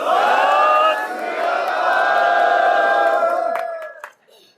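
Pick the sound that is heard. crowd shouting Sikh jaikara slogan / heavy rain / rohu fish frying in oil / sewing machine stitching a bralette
crowd shouting Sikh jaikara slogan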